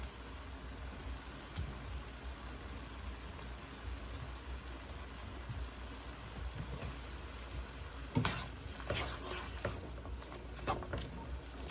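Garlic lands in a hot pan and gives a quiet, steady crackling sizzle with faint irregular pops, a little louder toward the end.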